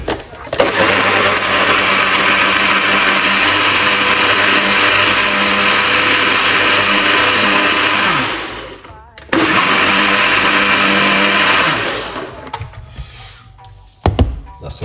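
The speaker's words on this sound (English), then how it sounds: "give it one more blend, just a few in it, not too much" A kitchen blender whirs loudly and steadily through a batch of fresh watermelon juice, stopping near the eight-second mark, then running again for a second burst before cutting off, with a brief voice afterward.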